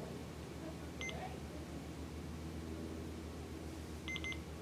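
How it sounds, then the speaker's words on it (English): Two faint, short electronic beeps, about three seconds apart, sound over a steady low hum of background noise. "until you hear a double beep."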